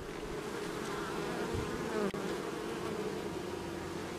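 A dense, steady drone of many honey bees buzzing inside an opened hive, unsmoked, close and continuous, with a faint knock partway through.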